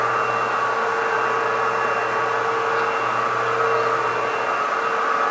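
Floor stripping machine running during a wax strip and recoat job, a steady loud motor whine with broadband hiss and a low hum, continuous and even throughout with no talking.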